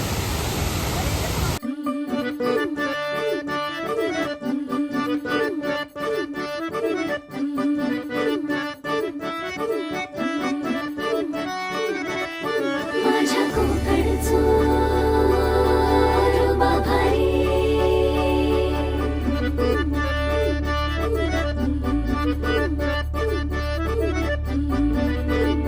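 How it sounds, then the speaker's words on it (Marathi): Upati waterfall in the Konkan region, a steady broad rush of falling water that swells louder partway through and continues under prominent background music. "हा असा उपटीचा धबधबा"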